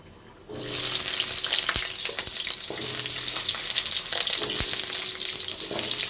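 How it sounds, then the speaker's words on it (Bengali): Potatoes fry in mustard oil in a kadai, a loud, steady sizzle that bursts in after a quiet start and holds throughout, with occasional clicks of stirring. "কড়াতে সরিষার তেল দিয়ে দিয়েছি এবার আমি আলুটা ভেজে নিচ্ছি"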